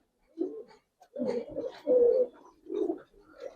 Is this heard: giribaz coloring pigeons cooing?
yes